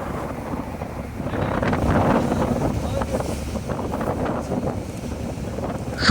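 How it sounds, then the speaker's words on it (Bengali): A boat pulls away from the jetty at Rameshwaram and heads out to sea, with a steady engine rumble and water rush blended with strong wind buffeting, continuous and fairly loud throughout. "আমাদের বোট এগিয়ে চলল রামেশ্বরম জেটি ছেড়ে দিগন্ত সমুদ্রের দিকে"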